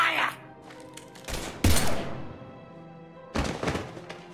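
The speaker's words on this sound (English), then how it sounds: "Now open fire!" Gunfire in a sci-fi video game firefight: a few sharp, loud blasts and a heavy burst mid-clip followed by another shot later, separated by quieter gaps with faint background tones.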